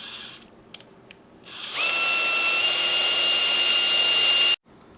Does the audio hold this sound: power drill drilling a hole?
yes